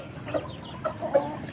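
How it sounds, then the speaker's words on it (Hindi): An imported young rooster left out in the sun, giving a few close, short clucks spaced across a brief moment, with no talking. "ये जो अभी इंपोर्ट करवाया वो मुर्गा है"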